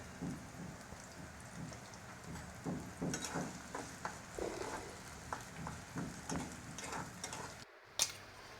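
Lots of sliced onions sizzle in oil in a pan for biryani birista, a continuous crackling fry dotted with irregular spatters and light scraping stirs, fairly close, ending with a short pause and a sharp clack.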